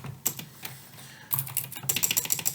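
Keys clattering on a computer keyboard in quick, uneven bursts of typing, close and alone, with short pauses between runs of keystrokes.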